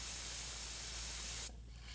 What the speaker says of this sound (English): I'm spraying on the frisket a little bit